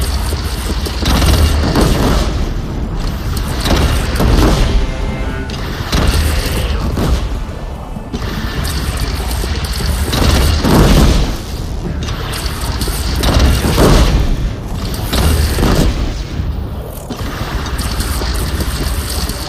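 A cannon fires repeatedly during a battle in the video game Horizon Zero Dawn, its heavy booms rolling over a constant loud roar of combat and wind.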